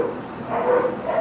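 A crated dog yips and whimpers in short bursts, close and moderately loud, with a muffled indoor background.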